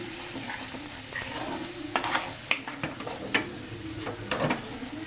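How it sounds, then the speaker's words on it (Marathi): Masala for Bangda fish gravy fries and is stirred over a fast flame, a steady sizzle broken by sharp scraping and clacking strokes of a spoon against the pan, close and fairly loud with no talking. "खूप फ्राय करायचं नाही आहे, पण थोडंसं हलकं फ्राय करत राहायचं आहे"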